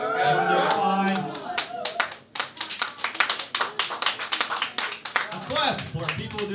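Scattered hand claps from a small audience ring out in an uneven patter after a voice speaks, with talk resuming at the end.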